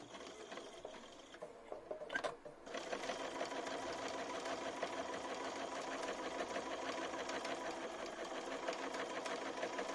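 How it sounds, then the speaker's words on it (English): A SuiSei A9S sewing machine with a binder attachment stitches binding in a rapid, steady mechanical whir, quiet and close, after a brief pause near the start. "And I'll sew a little bit."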